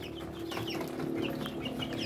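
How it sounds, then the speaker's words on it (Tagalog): Young Rhode Island chicks and Muscovy ducklings cheep and cluck together in a steady, close, overlapping chorus, with no voices. "Latest update sa mga alaga natin sisiw ng Muscovy ducks saka Rhode Island"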